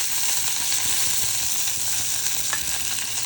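Curry leaves crackle and sizzle in hot oil in a kadhai, a steady close frying hiss with small pops and no talking.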